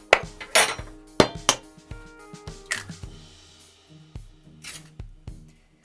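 An egg is tapped and cracked against a large bowl holding butter and sugar for oatmeal raisin cookies: a run of sharp, close clinks and knocks with brief pauses between.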